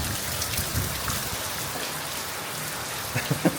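Overnight rain falls steadily on a house roof with a blocked drainage line, a continuous close hiss of drops with a few louder splashes near the end and no voices.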